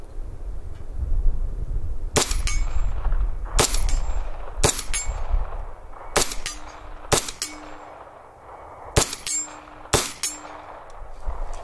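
A 9mm pistol fitted with an Odin Works barrel fires a string of sharp shots, each answered by the bright ringing clang of a distant steel target, irregularly spaced over several seconds.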